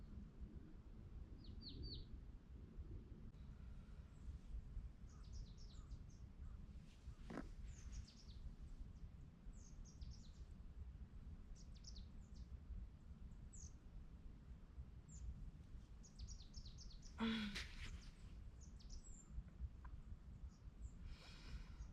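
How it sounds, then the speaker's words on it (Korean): Birds chirping on a quiet mountain at dawn, faint scattered tweets and short calls spread across a hushed, distant background, with one brief louder note partway through and no talking. "아주 조용해요. 새가 지저귀는 소리밖에 안 들리고"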